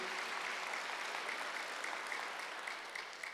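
A church congregation at a Wednesday worship service claps steadily and evenly for several seconds, a dense, fairly soft wash of applause that fades slightly near the end.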